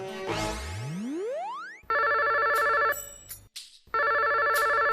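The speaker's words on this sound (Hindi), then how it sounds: "आप फोन क्यों नहीं उठा रहे?" A phone ringtone: a quick rising electronic sweep, then two loud bursts of trilling ring separated by a short gap.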